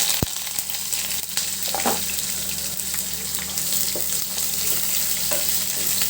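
Cut ingredients sizzle steadily in a hot pan, a continuous dense frying hiss with occasional soft stirring clicks, close and alone with no voices.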